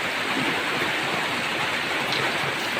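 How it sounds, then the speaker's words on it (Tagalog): Heavy rain pours down steadily in a cold spot where a Visayan-style native chicken soup is being made, a dense, even hiss of downpour with no voices over it. "Lakas ng ulan dito."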